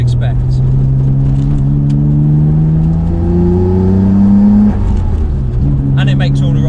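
The engine of a Nissan Skyline R32 GT-R revs loud and close while driving, its pitch climbing through the gears in long rising pulls, with a brief dip and a surge near the end.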